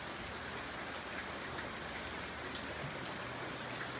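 Heavy rain pours down steadily during a thunderstorm, a dense, continuous hiss of drops hitting surfaces close by, with no thunder standing out and no voices.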